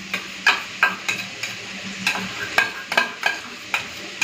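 Sour yogurt being stirred into fried spices in a pan over a low gas flame, a spoon scraping in repeated, fairly close strokes over a soft, steady sizzle, with no talking.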